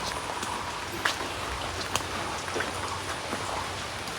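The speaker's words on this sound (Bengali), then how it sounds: "বৃষ্টি পড়ছে" Rain falls steadily in a village farmyard with cattle, a soft even patter with a few sharper drops landing on a surface nearby, moderately quiet and with no talk.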